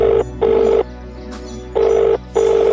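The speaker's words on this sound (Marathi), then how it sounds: "थांबा मी त्याला फोन करतो." A telephone rings back for an outgoing call, with four evenly spaced electronic ring bursts separated by short pauses, clear and close with no talking.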